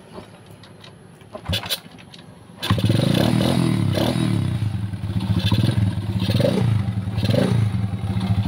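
A faulty motorcycle engine that knocks and stalls starts after a few clattering knocks, then runs loudly nearby with repeated throttle blips.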